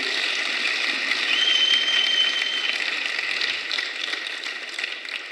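A church congregation claps together in sustained, dense applause that stays steady and fairly loud throughout, easing slightly toward the end, with no voices over it.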